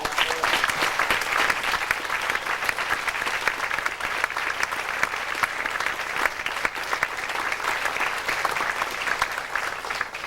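Sustained, dense audience applause at a community service awards ceremony, steady and loud throughout with no break, a continuous wash of many hands clapping.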